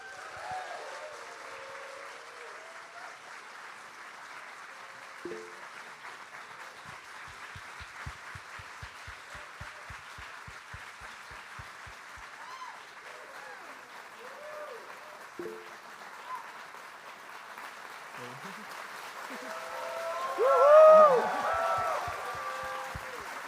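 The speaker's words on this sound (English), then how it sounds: "So please welcome with a big round of applause." An audience applauding and cheering as a speaker walks onto a stage: sustained, fairly subdued crowd clapping over a long stretch, with a louder swell and a few whoops near the end.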